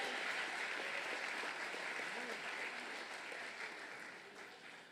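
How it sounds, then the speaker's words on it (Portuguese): A church congregation applauds during a service, a continuous crowd clapping heard somewhat distant and soft, gradually fading toward the end. "Você consegue aplaudir ao Senhor pela sua palavra agora?"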